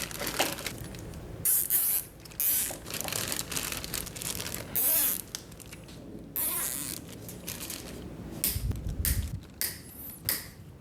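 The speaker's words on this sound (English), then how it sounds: "cover these with a Ziploc bag and a zip tie to make sure nothing gets inside of any of these tubes" Plastic Ziploc bags crinkle and a zip tie ratchets as open tubes are sealed in the engine bay of a 1995 Chevy OBS truck, close, irregular rustling and sharp clicks with no talking.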